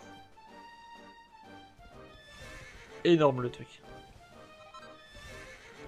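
A horse neighs in Dragon Quest 11, a sudden loud whinny bursting out midway and falling away, set against soft game music and a quiet hoof rhythm, with someone talking just before it.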